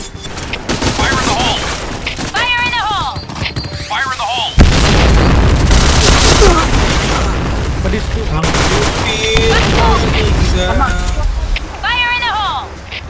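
Grenade blasts in the shooter Point Blank on the Midtown map: heavy booming explosions and rattling gunfire with a big blast near the middle, under constant chatter and shouted voices.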